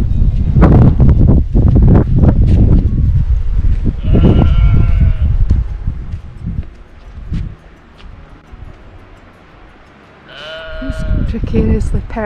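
Several sheep bleat, some close and some farther off, on the Isle of Raasay near Brochel Castle, with wind buffeting the microphone and someone talking over the first part.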